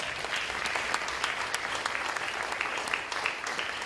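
Steady audience applause fills a school ceremony at Virgil Grissom School No. 7, dense overlapping claps sustained evenly throughout with no voices standing out.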